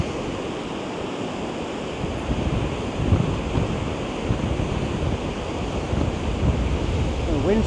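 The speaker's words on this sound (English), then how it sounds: "The wind's quite cold." Cold summer wind sweeps through coastal sand dunes near Hayle, Cornwall, as a steady, close roar of broadband rushing and buffeting against the microphone, with slight gusts swelling throughout.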